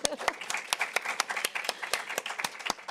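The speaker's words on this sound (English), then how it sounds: "Can we give him another round of applause?" A small audience at a soil health session applauds a youth speaker with sparse, distinct individual claps in a loose, fairly even rhythm, close and moderately quiet.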